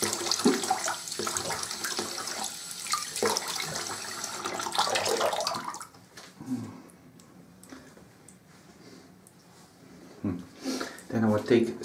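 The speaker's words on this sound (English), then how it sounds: "I will rinse up with cold water." A bathroom tap runs for a face rinse with cold water after a shave, giving a loud rushing splash of flowing water for several seconds, then quieter dripping and splashing as water hits the skin and sink.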